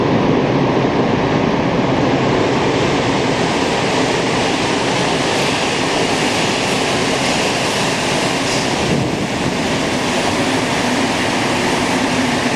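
A Montreal metro MR-73 train rumbles along steadily with a constant roaring wash of wheel and track noise, loud and unbroken.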